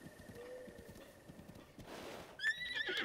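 A horse in The Legend of Zelda: Breath of the Wild trots with soft hoofbeats, then lets out a loud, shrill whinny near the end, with faint bird calls in the background.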